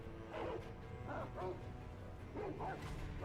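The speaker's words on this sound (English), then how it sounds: "Dog! Stop barking and come over here." A dog barks in a video game, three or four soft yipping barks spaced across a few seconds at low level.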